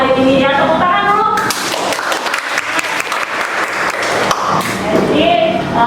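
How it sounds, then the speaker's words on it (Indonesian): A classroom of students claps hands in a burst of overlapping claps and taps, with some scattered rhythmic clapping. A teacher's voice and children's chatter can be heard before and after. "Tepuk tangan dulu."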